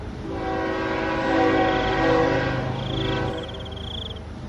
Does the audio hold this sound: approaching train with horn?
yes